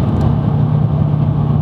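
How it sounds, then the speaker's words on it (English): Nissan Silvia S15 engine with a stock exhaust, giving a steady, fairly quiet low hum close by, with no one speaking over it. "The motor's quiet, the exhaust is stock, so it's fairly quiet."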